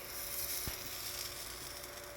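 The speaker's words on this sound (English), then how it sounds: "I'm going to flip over the first Boorelu that I have put" Boorelu, sweet dumplings, sizzling in oil in a paniyaram pan as they are flipped, a faint steady hiss with a single light click of the turn, quiet and close.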